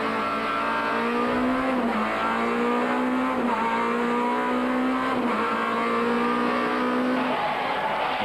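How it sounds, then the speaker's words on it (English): Onboard a rally car on a twisty section through the pits at the 2002 Cape Rally, a loud, continuous engine note rising and falling through shifts and revs, close and dominant throughout. "There was no room for error in the twisty section through the pits. We travel on board with Lawrence to see exactly what the drivers face."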